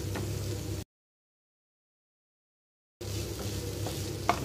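Egg Manchurian with sauce and onions sizzles and is stirred in a hot pan, with a steady frying crackle broken by a stretch of complete silence before the stirring resumes.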